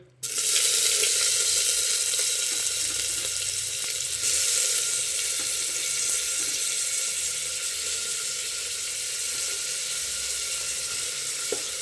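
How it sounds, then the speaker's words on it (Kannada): Onions sizzle as they fry in about two spoons of hot oil in a pan for a bottle gourd gravy, a loud, steady hiss right at the start and running unbroken close by, with no talk. "2 ಸ್ಪೂನ್ ಆಯಿಲ್ ಹಾಕ್ಕೊಂಡಿದ್ದೀನಿ, ಕಾಯ್ತಾ ಇದೆ. ಇದಕ್ಕೆ ಈರುಳ್ಳಿ ಹಾಕೊಳ್ಳೋಣ."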